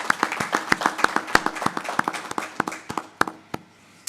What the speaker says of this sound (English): if we can all give a round of applause for our panelists